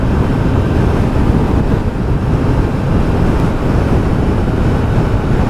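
Heavy, constant wind buffeting roars across the microphone while riding a 2021 Triumph Trident 660 motorcycle at around 100, loud and unbroken, with no speech.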